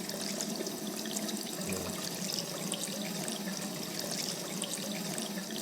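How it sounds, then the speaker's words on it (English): Water running steadily from a tap in the video game Rue Valley, a continuous broadband splashing rush that stays even and fairly loud throughout with no voices. "And you see the water spilling out of the tap."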